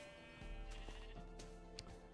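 Sheep in Minecraft bleat a few times in quick succession, close and clear, with no talking over them.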